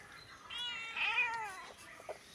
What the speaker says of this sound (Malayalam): ഇതാ നമ്മുടെ പൂച്ച പൂച്ചപ്പട്ടാളം